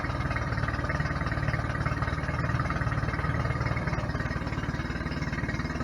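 A 2019 Mercury 9.9 outboard boat motor idles steadily nearby at about 1100 RPM, its low, even chugging pulse holding constant throughout, with no talking.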